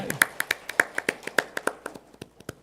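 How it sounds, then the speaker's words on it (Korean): A church congregation at a Sunday service claps in a steady rhythm, sharp distinct claps at a moderate pace fading slightly toward the end, fairly quiet and with no talk over it. "우리 박수로 하나님께 영광 돌리도록 하겠습니다"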